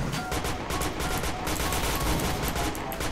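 Dense, rapid gunfire rattles through a round of the shooter game Point Blank, a continuous loud burst of shots with no pauses and no talk.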